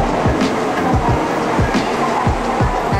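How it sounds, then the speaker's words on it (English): A Japanese Shinkansen bullet train rolls into a station platform on the Tokyo–Osaka line, giving a steady low rumble with a regular rhythmic thump of wheels over rail joints, close by and fairly loud. "That's our train and our train car."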